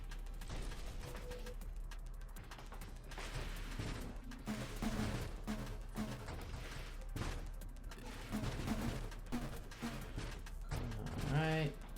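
Rear-firing ship weapon in the space shooter Nova Drift, sputtering in rapid volleys of gunfire-like bursts under constant game music, with people talking over the action.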